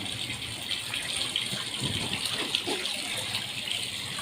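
Water pours steadily from a pipe into a small home-made backyard pool for children, a constant broadband gush with no break, fairly close and alone.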